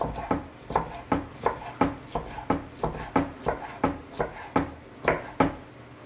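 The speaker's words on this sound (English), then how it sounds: "just going to chop our peppers into sort of nice chunks" Bell peppers being chopped into chunks on a board for a paleo coconut chicken curry, with about sixteen steady, evenly spaced knife strikes, close and crisp, and no talk.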